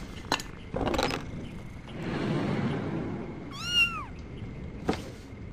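Cat meowing in the Grim Legends video game, one short rising-falling meow partway through amid soft clicks and quiet ambient rustle, close and clear.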